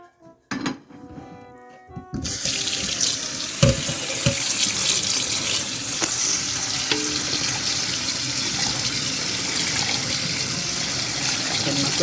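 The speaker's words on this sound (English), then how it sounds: "Now we're just going to go ahead and drain this in some cold water." Cold tap water rinsing drained canned blueberries in a kitchen sink: a steady, loud hissing stream runs continuously after a couple of brief clinks at the start.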